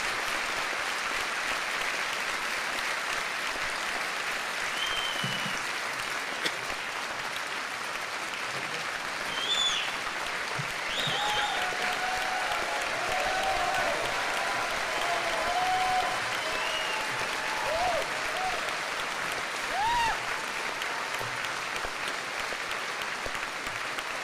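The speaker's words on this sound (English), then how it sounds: "thank you for that very nice Texas round of applause for Dinesh D'Souza" A Texas audience gives a sustained round of applause for Dinesh D'Souza at a live speech event, a steady dense wash of clapping with faint cheers and whistles rising through it.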